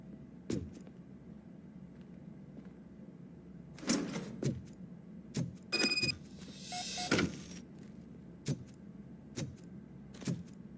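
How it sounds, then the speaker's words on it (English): A door opening in the video game Roboco: Rogue City, heard as a few sharp mechanical clunks and whirring bursts spaced across a quiet ambient background, fairly close with no talking. "Now let me get that door open for you."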